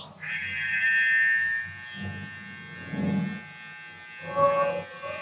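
An electric hair trimmer runs with a thin, steady buzz, with low voices murmuring underneath.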